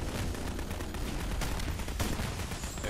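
Dense, continuous gunfire aimed at the Hades boss in a Half-Life final battle, a steady barrage of overlapping shots and crackling bursts with a few sharper peaks, loud throughout.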